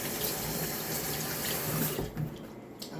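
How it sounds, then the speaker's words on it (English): Kitchen knife rinsed under a running tap into a sink, steady close splashing water flow that shifts and thins near the end as the blade moves through the stream. "And I'll just rinse off this knife."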